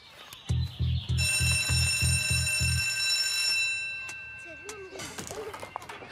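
A school bell rings in a French animated cartoon: a quick run of loud, rapid pulses, then a bright sustained ringing tone that slowly fades, with voices and small sounds following.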